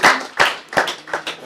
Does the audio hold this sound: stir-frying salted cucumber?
no